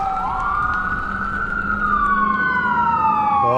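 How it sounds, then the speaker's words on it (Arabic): An ambulance siren passes along a street, its loud wailing tone rising and falling continuously over steady traffic rumble, with no talking. "دي إسعاف."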